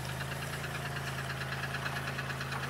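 A 2002 Chevy Malibu engine runs steadily close by, with one wheel seized and dragging. The rumble is constant with a fast, even knocking pulse, and no one speaks.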